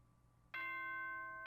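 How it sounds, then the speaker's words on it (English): A bright multi-tone electronic chime from the Danganronpa video game sounds once, suddenly and loudly, after near silence, then holds its sustained ringing tones. "Ding dong bing bong."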